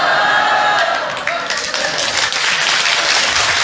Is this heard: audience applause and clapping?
yes